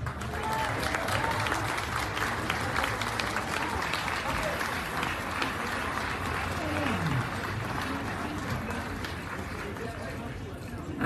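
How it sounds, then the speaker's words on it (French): Crowd at an outdoor Paris rally for French pride applauding a presidential candidate, sustained dense clapping with cheers and crowd noise filling the whole stretch at steady loudness. "Vous pouvez l'applaudir."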